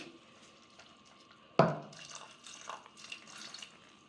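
Water poured into a pot of vegetables for pressure cooking: a sudden splash followed by short bursts of gurgling and trickling, close and fairly quiet in an otherwise still kitchen.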